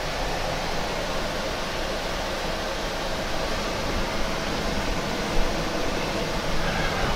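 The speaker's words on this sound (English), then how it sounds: "And we'll drill the next one." A milling machine drills holes in a metal plate, giving off a loud, steady broadband roar with no pauses and no talk over it.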